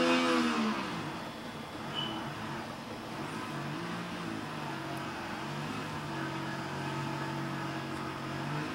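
An RC model airplane hovers in a slow Harrier maneuver, its small engine droning steadily at a distance, rising and falling slightly in pitch, moderately loud outdoors with no talk.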